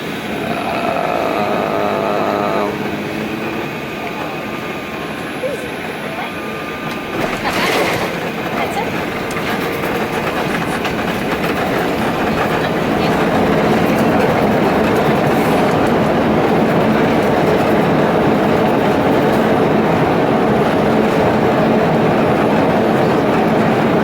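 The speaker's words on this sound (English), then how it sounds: "There's the runway, so here we come. Let's see how smooth this landing is." Passenger plane landing at Hong Kong airport, heard from inside the cabin: a loud, steady broadband roar of engines and airflow builds through the descent with a brief rumbling jolt early on, no talk.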